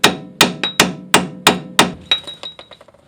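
Seven sharp metallic hammer blows ring out at a steady pace, followed by quicker, fading taps, as a hammer drives out the front wheel bearing of a Hyundai Accent in a workshop, close and loud, with no talking.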